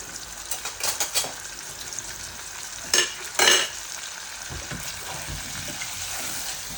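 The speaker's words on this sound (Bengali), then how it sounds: "তেলের মাঝে আমি বাগার দিলাইমু" Potatoes frying in hot oil during a Bangladeshi tempering for dal, a steady close sizzle with a few sharper bursts of spitting and stirring scrapes, no one talking.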